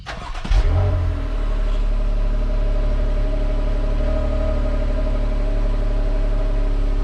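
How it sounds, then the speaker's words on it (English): A cammed Jeep 5.7 V8 engine cold start: it cranks and fires with a sharp burst, then settles into a loud, steady, rumbling high idle that holds throughout. "we'll get a cold start of the Jeep"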